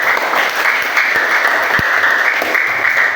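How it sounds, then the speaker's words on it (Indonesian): Students in an Islamic religious education classroom clap together in a steady, dense burst of applause, loud and close, lasting a few seconds without talk. "Tepuk tangan dulu."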